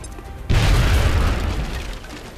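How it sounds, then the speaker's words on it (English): A grenade explosion in the XCOM Enemy Unknown video game: one loud, sudden deep boom that hits hard and rumbles away over about two seconds, with no talk. "throw a grenade here."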